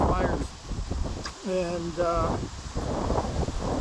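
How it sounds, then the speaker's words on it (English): Strong wind blowing outdoors, a steady rushing gust buffeting the microphone throughout, with a person speaking briefly over it. "it's really windy right now"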